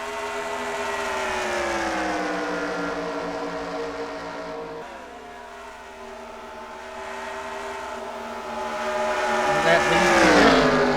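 Race cars circling the track during the HCWL 200 give a steady, layered engine drone whose pitch sweeps and shifts as they pass. It dips briefly midway, then swells louder near the end as a car comes close.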